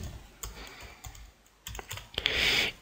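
A network name being typed on a computer keyboard: scattered close key taps, then a quick run of clustered keystrokes.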